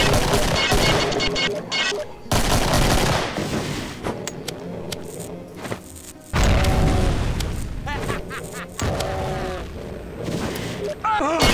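Rapid bursts of gunfire and heavy booming blasts from enemies shooting at the player in Doom 2, dense and loud with brief gaps, with a voice talking over it.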